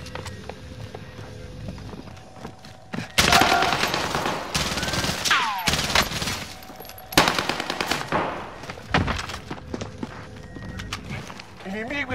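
Loud bursts of automatic gunfire ring out in Call of Duty Warzone, coming in several separate volleys amid other in-game noises, with voice lines spoken over the action.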